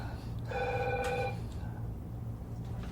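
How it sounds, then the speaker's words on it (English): A telephone bell rings in a burst of harmonic trills for about a second, over steady background noise and low murmuring, during a historical interview with Lemmy Kilmister. "Answer the phone, please."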